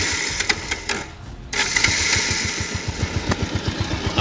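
A Bajaj Pulsar 150 idles just after starting, a close, steady low thrum with a fast ticking tappet clatter riding on top, broken briefly by a short lull in the engine note.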